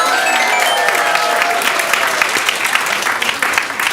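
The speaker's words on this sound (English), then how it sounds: "Let's give Rose a round of applause." An audience in a theater claps in a dense round of applause, loud and close, easing slightly toward the end, with a few voices mixed in.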